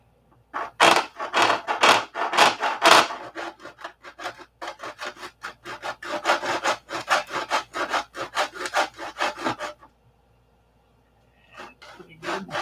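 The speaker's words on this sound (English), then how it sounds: "So we'll get some sandpaper here." Sandpaper rubbed back and forth over the wooden wing of a P-47 model, squaring it up: a close run of rhythmic, scratchy strokes, fast and heavy at first, then steadier, stopping briefly before a few last rubs.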